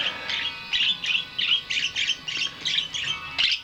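A bird repeats a bright chirp outdoors, about a dozen short calls in a steady, even rhythm, moderately close and clear against a quiet background.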